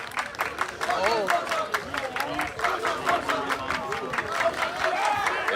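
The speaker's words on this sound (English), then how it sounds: "And the crowd is going crazy out there." A baseball crowd at a Vanderbilt playoff game cheers and claps loudly and steadily, with whoops and chatter running throughout the noisy stands.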